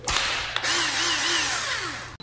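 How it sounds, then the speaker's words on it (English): A handheld power drill runs in a home while baby-proofing a nursery, a loud steady whir with a short break and a wavering pitch, ending with an abrupt cutoff. "let me use this drill real quick"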